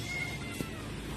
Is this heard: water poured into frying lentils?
no